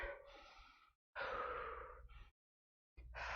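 Heavy, forceful breathing during a hard workout: three close, loud breaths, long gasping exhales separated by brief silences, with no talking.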